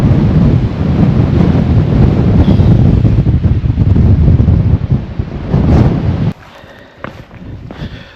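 Strong wind on a Snowdonia hillside near Aberglaslyn gorge roars and buffets loudly against the microphone, then suddenly drops away to a quieter gusty rustle near the end.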